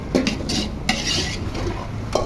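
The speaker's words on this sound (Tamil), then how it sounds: "நல்லா நம்ம சிக்கனை போட்டாச்சு அதை நல்லா வதக்கி விட்டுறோம்" Chicken for biryani is stirred and sautéed in a pot, with a spoon scraping and clattering against the metal in steady strokes over a low sizzle, up close and without talk.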